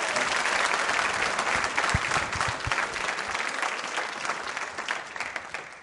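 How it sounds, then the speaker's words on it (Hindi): An audience at a school quiz show at Mahaveer Public School applauds loudly and steadily the whole time, a dense wash of many hands clapping together. "अर्पित जी के लिए तालियां अर्पित कीजिए जोरों से, जोरदार तरीके से, जोरदार।"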